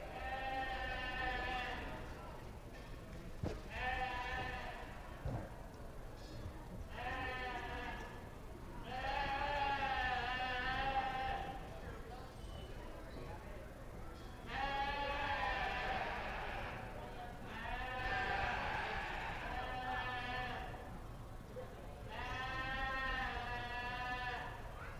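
Sheep bleating repeatedly at a county fair sheep show, a series of loud, wavering calls spaced a few seconds apart over a murmuring crowd.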